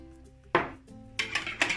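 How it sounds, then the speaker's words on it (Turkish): Egg, liquid ingredients and yogurt being whisked in a bowl for a kaşık dökmesi batter, heard as a few sharp clinks of utensil against the bowl in separate bursts. "Sıvı malzemelerimizi bir ilave edelim ve çırpalım"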